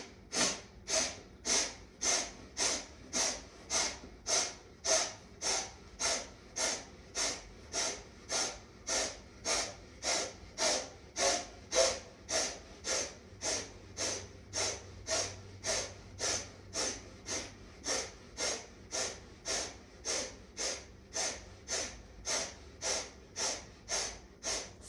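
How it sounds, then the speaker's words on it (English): Close, rhythmic yoga breathing, each breath a forceful, hissing, snort-like push of air. Roughly thirty-five evenly paced breaths come in quick succession, with nothing else heard. "nice big breath in, long audible out, and inhale in"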